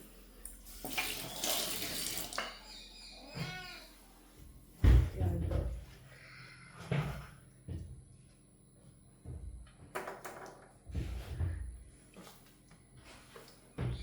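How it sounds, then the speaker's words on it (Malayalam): Running tap water in a home sink while hands are washed, a broad steady wash at first that gives way to intermittent splashes, knocks and handling noises, close and moderately loud. "ആദ്യം കൈ കഴുകട്ടെ. കൈ കഴുകുക."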